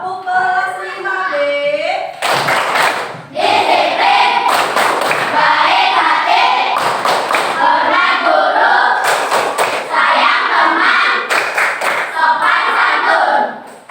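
A class of fifth-grade children chants in unison while clapping and thumping in a rhythmic pattern, loud and close, with sung-spoken voices alternating with sharp bursts of claps.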